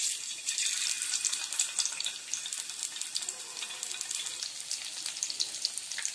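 Boiled egg halves frying in oil on a flat dosa tawa over a stove, a steady bright crackling sizzle with faint popping, close and continuous, no voices.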